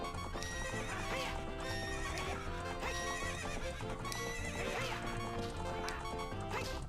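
In the Ocarina of Time video game, a horse whinnies and gallops with rapid clip-clop hoofbeats during a race, all over continuous game music.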